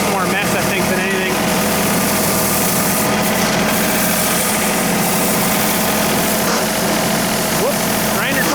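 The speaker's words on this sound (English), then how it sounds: "I'm going to come by here, I think, with my blower and blow it all into the bush." A small engine drones loud and steady throughout as leaves are blown near bushes beside a John Deere 2032R tractor, with a voice briefly audible above it.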